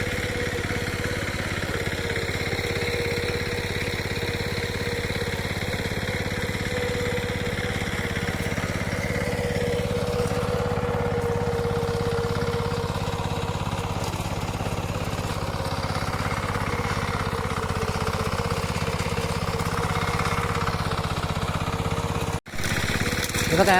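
A tractor engine runs steadily in a flooded rice field during transplanting, a constant mid-pitched chugging drone that holds throughout at moderate distance.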